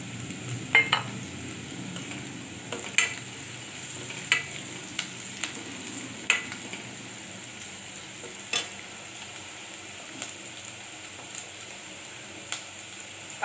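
Sprouted moth beans with green chilli and turmeric being sautéed in a pan, a steady soft sizzle broken by repeated scraping stirs of a spoon against the metal, close and alone without any voices.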